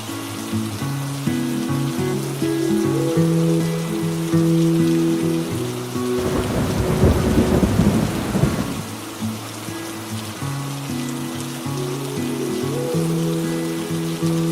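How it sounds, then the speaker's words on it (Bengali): Monsoon rain falls steadily in the hills around Kalimpong, a soft continuous wash that builds into a heavier, rumbling burst in the middle before settling again, with steady tonal music running underneath throughout. "নির্জন পাহাড়, সঙ্গে বৃষ্টি, আর আপনি একা বসে বৃষ্টি ভেজা পাহাড় উপভোগ করছেন।"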